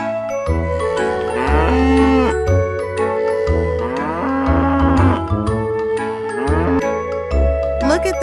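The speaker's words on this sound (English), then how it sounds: "What sound does a cow make?" A farm cow moos loudly and repeatedly, giving several long drawn-out calls close by, with bright musical accompaniment playing underneath.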